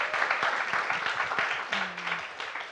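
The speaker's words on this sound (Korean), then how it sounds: "저희 박수로 환영해 주시겠어요?" An audience at a church vision lecture for middle and high school students claps to welcome a guest speaker, with steady clapping throughout and a voice briefly heard over it.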